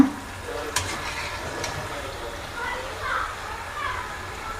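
Wheat flour kajjikayalu sweet dumplings fry in oil with a soft, steady bubbling sizzle, a couple of faint clinks near the start, while people talk quietly over it.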